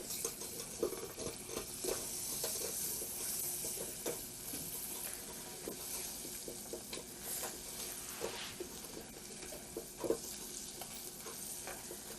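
Butter being stirred into golden homemade caramel in a pot, a soft steady bubbling sizzle with scraping stir strokes and occasional clinks of the spoon, quiet and close, with no voices.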